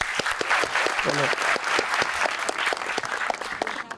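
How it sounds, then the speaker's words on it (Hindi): A studio audience on a TV talk show breaks into loud, sustained applause with crisp individual claps. A voice speaks briefly over the clapping. "तालियां इसके लिए"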